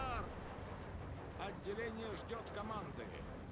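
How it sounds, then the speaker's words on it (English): Bombs dropping in the World War II strategy game Steel Division 2, heard as rumbling explosions and low booms over a steady game soundscape, with a voice talking over them. "Those bombs may have dropped."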